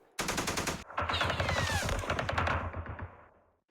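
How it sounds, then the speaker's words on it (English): Machine-gun fire in the Vietnam-era war game Campaign Series Vietnam: sustained rapid bursts of automatic shots, loud and close, running for about three seconds with a short break near the start before fading out. "Now there's still this machine gun out here, so let's put some fire into it"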